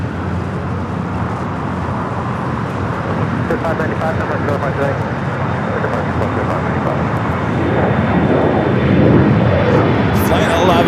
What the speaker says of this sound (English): Flight 11 coming in from Sydney, Australia.